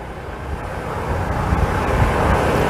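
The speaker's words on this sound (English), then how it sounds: "Right, Jake, we actually just watched a helicopter, which I suspect is carrying relief aid right now, fly just over us" A loud, steady engine roar with a rushing, wind-like quality builds slightly, as a helicopter passes close overhead in Puerto Rico after a hurricane; no voices.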